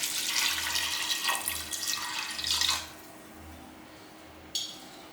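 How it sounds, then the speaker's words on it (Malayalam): Water poured into a pot of dal curry with green chillies, a steady splashing stream for about three seconds that then stops, leaving quiet room tone and a brief clink near the end. "ഇനി നമുക്കിതിലേക്ക് പാകത്തിന് വെള്ളം ഒഴിച്ച് കൊടുക്കുകയാണ്."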